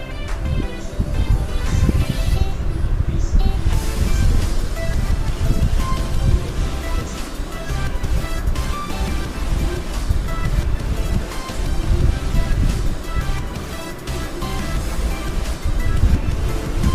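A river rushes beside a forest road during a bicycle ride, a loud steady broadband roar of flowing water that holds for the whole stretch, with no clear speech.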